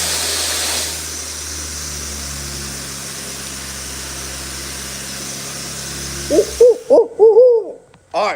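A person imitates an owl call, as used for turkey hunting, with a series of loud, close hoots after several seconds of steady engine or machinery drone that cuts out just before the calls.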